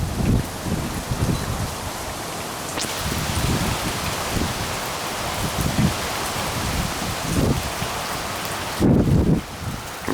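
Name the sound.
strong winds from Tropical Storm Nicholas in Houston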